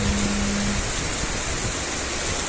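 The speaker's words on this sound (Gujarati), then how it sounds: "વરસાદ સતત ચાલુ જ છે" Heavy rain falls continuously around a home garden, a dense steady wash of loud hiss with no breaks, and a brief low hum at the start, no voices.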